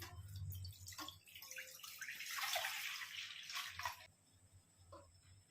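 One litre of cow's milk pours into a pot in a steady, splashing stream for a few seconds, then tapers off and stops.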